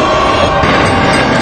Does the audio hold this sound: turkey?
no